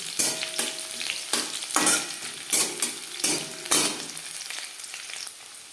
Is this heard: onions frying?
yes